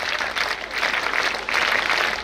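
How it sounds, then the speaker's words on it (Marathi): Applause from a school audience welcoming two netball students at an annual school gathering, a steady crackle of many hands clapping throughout, moderately loud and swelling slightly near the end. "त्याबद्दल या दोघांचं खास टाळ्या वाजवून स्वागत केलं पाहिजे"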